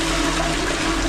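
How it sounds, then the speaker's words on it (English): Toilet flushing paper down a blocked drain, a steady loud rush of water swirling and gurgling through the bowl for the whole moment, no voices over it. "Flush away."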